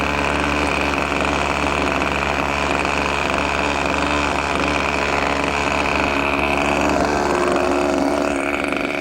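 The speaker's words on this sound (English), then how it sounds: "And one more time, we'll run the engine up." Small radio control model airplane engine runs steadily at high revs, a loud buzzing whine held at close range throughout with a slight shift in pitch near the end.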